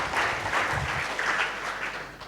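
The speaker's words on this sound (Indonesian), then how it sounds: "Yang mau berikan tepuk tangan meriah bagi Tuhan kita Saudara." Church congregation clapping enthusiastically during a Pentecostal worship service, a dense steady burst of applause filling the room with a low rumble of voices underneath.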